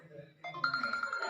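A Samsung Galaxy J7 4G plays its Basic Bell ringtone, a short, faint chiming melody of bright repeated bell tones that rises in pitch and steps up in loudness partway through.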